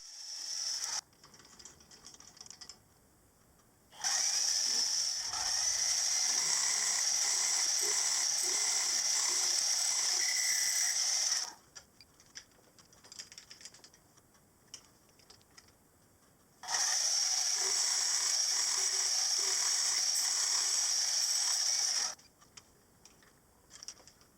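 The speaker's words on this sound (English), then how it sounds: "The mill did not sound happy during this operation" Milling machine cutting a casting for a universal pillar tool base, two long loud grinding, rattling cutting passes of about seven and six seconds, separated by quieter intervals of machine running and ticking.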